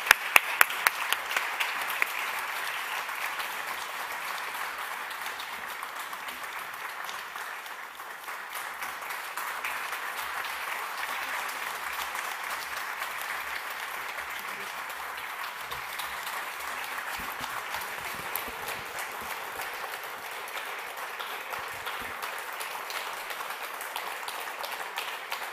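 An audience at the traditional Galatasaray Award ceremony gives warm applause as the award winner is invited to the stage. A few sharp claps open into a long, steady, moderately loud wash of clapping.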